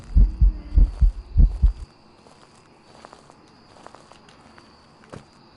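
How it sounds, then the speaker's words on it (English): Loud heartbeat in the horror video game Phasmophobia, with about five heavy low thumps in quick succession that stop abruptly, followed by quiet ambience, a faint hum and soft scattered clicks. "It does have a pretty loud heartbeat."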